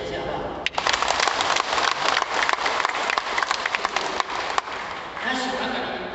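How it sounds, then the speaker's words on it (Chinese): A hall audience at a Tao Te Ching class event with music performances gives steady, dense applause. The clapping runs continuously for several seconds at moderate loudness. "给这些掌声一下好不好？"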